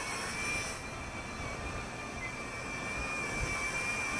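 WLToys Q353 triphibian RC craft with its propellers spun up to full throttle, a steady high-pitched whine with a constant tone running evenly and fairly close throughout, alone with no talk.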